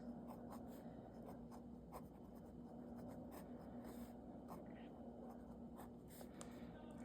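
A Wingsung 631 fountain pen writes Chinese characters on paper, giving close, steady scratchy nib strokes with short pauses between marks over a faint constant hum, with no talking.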